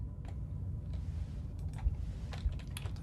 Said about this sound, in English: why would you record the keyboard when typing a password?